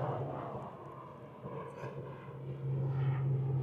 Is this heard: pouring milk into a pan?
no